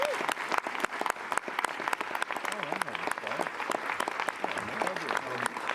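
Audience at a TIFF Q&A applauding as director John Carroll Lynch is welcomed, steady dense clapping filling the room without a break.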